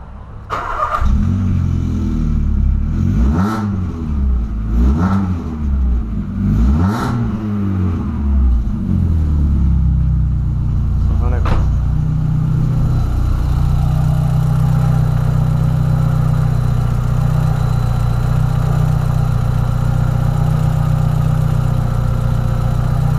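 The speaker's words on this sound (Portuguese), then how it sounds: "Vou dar uma partidona ali no carro agora pra ver se vai apitar alguma coisa" A Volkswagen Polo engine cranks several times in quick bursts, then catches and revs before settling into a steady, loud idle close to the listener.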